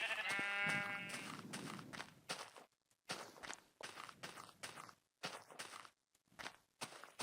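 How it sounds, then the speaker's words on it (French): Sheep in Minecraft let out a clear bleat near the start, followed by a run of game footsteps in short bursts separated by brief silences. "Ah, il y a les moutons là."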